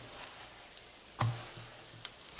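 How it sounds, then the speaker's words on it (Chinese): A chive pocket flatbread pan-fries over medium heat in a covered pan with a faint, steady sizzle, broken by a few soft crackles and one louder pop. "盖上盖子，再中火烙2分钟"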